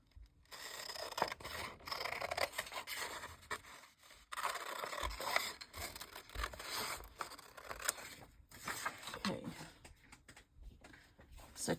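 Scissors cutting paper at an art-journal worktable, a soft continuous run of snipping, rustling and scraping strokes, faint and close, with no talking.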